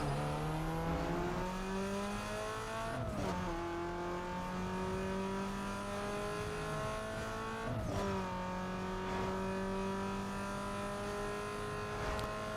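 Fully upgraded race cars in Need for Speed: Underground 2 drone steadily at high revs, the engine pitch climbing and dropping sharply at each gear shift, loud and continuous with no talking.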